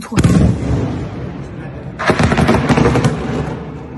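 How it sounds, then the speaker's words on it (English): Heavy booming blasts and crackling bursts of missile explosions in Kyiv, two loud clusters about two seconds apart, with rumbling in between. "explosions ripping through the city"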